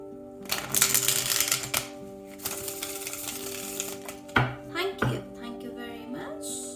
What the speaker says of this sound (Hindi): एक्वेरियस कुंभ राशि के लिए शफल कर लेते हैं कार्ड्स को।